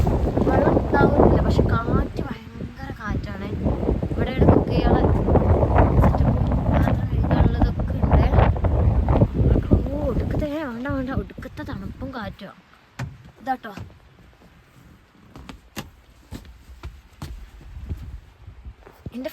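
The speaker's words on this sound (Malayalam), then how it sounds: "നല്ല കാറ്റുണ്ട്" Strong wind at a campervan site in New Zealand buffets the microphone with a heavy, rumbling roar while people talk over it; the gusts ease off near the end, leaving scattered knocks.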